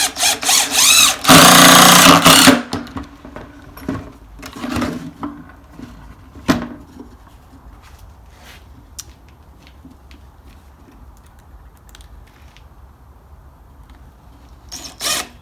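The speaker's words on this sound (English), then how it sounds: "just kind of put a couple screws through" A power drill driving screws through boards: a loud, close burst of high whirring at the start, then a few knocks and short bumps as the work is handled, with quieter background afterward.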